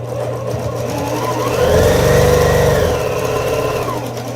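A domestic sewing machine stitches quilt blocks, a loud close mechanical whir that swells into a faster steady run for about a second and a half, then eases back to a lower hum.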